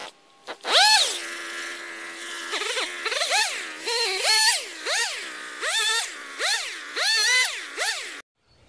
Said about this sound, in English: Time for some chainsaw action.